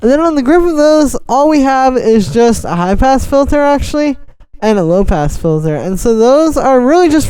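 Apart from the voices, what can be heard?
No distinct noise like a dog, phone or traffic.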